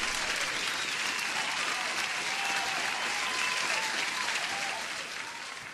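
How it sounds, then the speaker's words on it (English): A canned applause sound effect plays on a live trading stream: dense, even crowd clapping at steady volume that fades slightly in the last second. "Huge applause."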